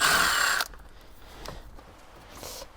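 Power drill fitted with a T25 Torx bit working on Audi R8 dashboard screws, a loud close burst of whirring for about half a second, then stopping, leaving only faint handling clicks.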